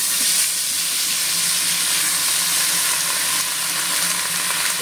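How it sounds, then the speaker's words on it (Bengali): Vegetables frying in leftover fish-frying oil in a pan, a loud, steady bright sizzle that continues throughout with no talk. "তো মাছ ভাজার তেলটার মধ্যে আমি এবার সবজিগুলোকে প্রথমে"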